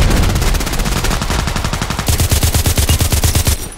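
Rapid automatic fire from an H&K 416c rifle in Contract Wars, a loud, close, steady stream of sharp shots that quickens slightly before cutting off near the end.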